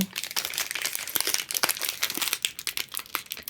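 Crinkly plastic wrapping torn and crumpled open from a bar of tar soap, a close, busy run of rustling crackles and small tears.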